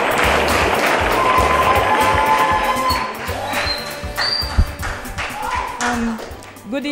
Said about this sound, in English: Ladies and gentlemen, a round of applause for Miss Delta.